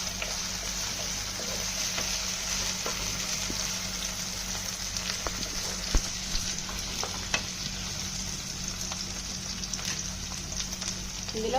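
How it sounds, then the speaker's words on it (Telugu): Onions and green chillies frying in a pan for mutton curry, a steady crackling sizzle throughout with occasional stirring scrapes and taps, moderately close and alone. "ఉల్లిపాయలు వేగుతున్నాయి కదండి"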